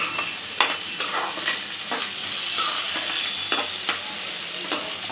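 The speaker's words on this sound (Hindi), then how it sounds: "मसाला हो गया, ऐसे में प्याज डाल के थोड़ा सा पहले ब्राउन करूंगी।" Onions brown in hot oil with masala for a turnip and meat curry, giving a constant close sizzle broken by occasional light spatula taps and scrapes.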